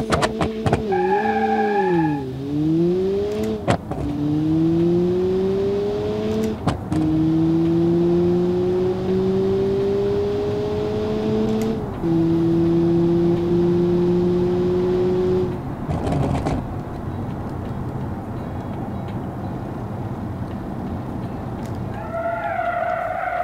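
The Sunshine GTI in the Automation game launches with a short tire squeal, then its engine revs rise and drop through several gear shifts on a quarter-mile run, loud and close, ending with brief skidding.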